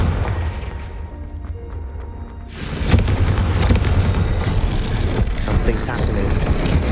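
In Hogwarts Legacy, a Confringo fire spell goes off as a sudden loud rumbling blast that swells into a sustained roar of fire and debris, heavy and close, continuing through the rest of the moment.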